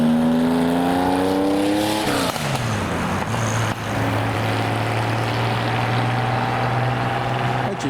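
Loud, close engine of a GMA T50 supercar leaving a car show, revving hard with harmonic tones climbing through the gears, a shift near two seconds, then holding a steady high drone.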